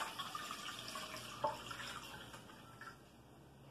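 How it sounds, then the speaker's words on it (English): Three cups of vinegar pour into a pot for pickling garlic scapes, a soft, steady splashing trickle with a brief clink partway through, close and quiet. "in our pot, we're going to add 3 cups of the vinegar"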